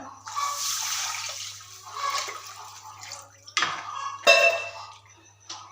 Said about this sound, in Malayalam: ഇനി നമുക്ക് ഇതിനകത്തേക്ക് കുറച്ച് വെള്ളം ഒഴിച്ചു കൊടുക്കാം.